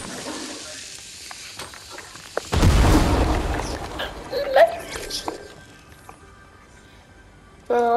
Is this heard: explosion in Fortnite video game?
yes